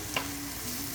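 Ginger hits butter and garlic in a hot pan, giving a soft, steady sizzle with a single brief clink early on, heard up close and without any talking.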